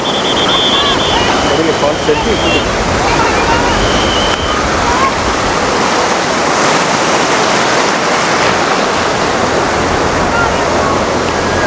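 Sea surf rolling onto the beach at Digha under a mild breeze, a steady, dense roar of breaking waves that fills the whole stretch without pause.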